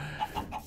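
A Minecraft chicken in a Minecolonies world gives three quick, soft clucks, evenly spaced and faint against a quiet background.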